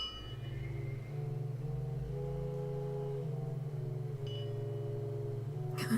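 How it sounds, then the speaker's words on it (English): Kinetic sound sculpture built from organ pipes, motors, gears and electronic parts, giving off sustained low droning pipe tones with shifting pitches and faint mechanical whirring, quiet and continuous. "They're sound sculptures, and they perform sort of musical compositions."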